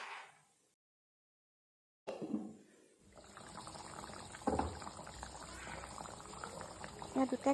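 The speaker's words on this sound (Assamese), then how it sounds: "এতিয়া প্ৰায় 5 মিনিটমান সময় উতলিবলৈ দিম।" Chicken curry with crushed green chillies and garam masala bubbling in a pot, a steady close simmering hiss with soft bursts, starting after a brief silence and growing fuller.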